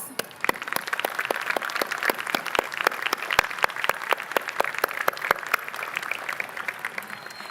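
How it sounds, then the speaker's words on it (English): Graduation audience at a Clear Brook High School ceremony gives a round of applause, scattered claps ringing out sharply in a large hall, with sparse distinct hand claps over a softer steady patter. "give our families and supporters a well-deserved round of applause"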